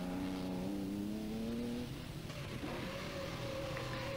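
A 3-litre Porsche rally car engine revs hard at the 1982 Rally of the Lakes in Killarney, rising steadily in pitch before easing off into a rougher, lower drone, loud and close throughout with no voices.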